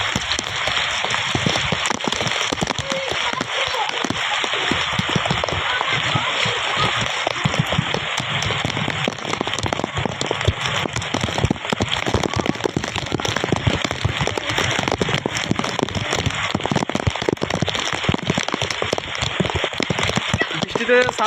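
Heavy pre-monsoon rain pours down steadily and loudly, a dense, continuous hiss of drops striking surfaces close by, unbroken for the whole stretch with no clear speech.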